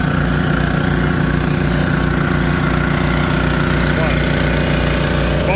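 Two water pumps running in series feeding a Rainbird 85E impact sprinkler, a loud steady mechanical drone with a throbbing low hum throughout, while a voice briefly speaks over it.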